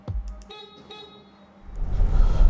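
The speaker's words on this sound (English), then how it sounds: "the silly Hyundai alarm does not allow you to unlock the car without making a loud horn noise" A Hyundai Venue alarm sounds its horn on unlock: two short, sharp honks close by, followed by the rising rumble of the car.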